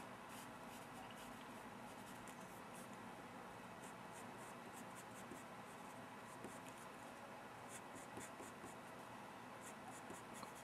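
Graphite pencil strokes on paper while drawing a comic-style hand, a steady close scratching texture of repeated short strokes running continuously without pause, with no talking.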